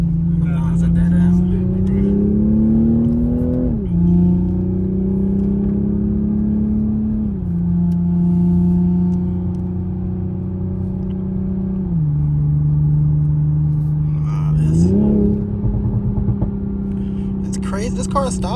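A Toyota Supra engine idles and revs repeatedly, a strong low droning note rising and dropping in pitch with several short bursts of crackling near the end, heard close from inside or beside the car.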